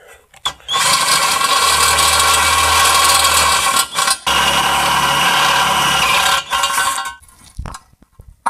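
A power drill bores a stepped hole through aluminium on a Mazda MX-5 engine job, the motor whining loud and steady in two long bursts separated by a brief stop, then winding down, with no talk.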